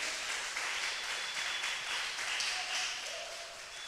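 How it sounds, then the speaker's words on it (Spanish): Steady applause from a church congregation during a pastor's sermon, fairly soft and continuous throughout. "Den un aplauso a nuestro Jesús."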